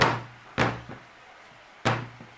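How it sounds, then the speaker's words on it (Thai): A soap mold filled with freshly poured soap made from recycled cooking oil is tapped against a surface, giving three sharp, hollow knocks with short pauses between them. "เคาะค่ะหลังจากนั้นเคาะนะคะ เคาะโมนนะคะ"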